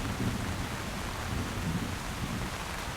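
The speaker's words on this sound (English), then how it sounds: "finally released by the pouring rain" Heavy, pouring rain hisses steadily with low rumbling thunder beneath it, a continuous dense wash of sound with no voices.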